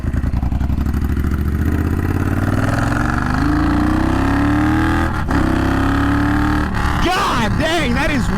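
A Triumph Bonneville Bobber motorcycle engine revs hard while riding, a loud steady roar rising in pitch through the gears with brief drops at shifts and wind buffeting, with a rider talking over it.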